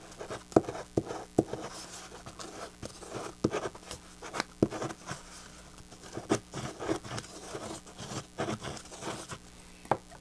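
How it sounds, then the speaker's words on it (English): A bone folder pressing and creasing paper on an explosion gift box, a close series of soft rubbing and tapping strokes in an uneven rhythm. "And I'm going to go in again with my bone folder."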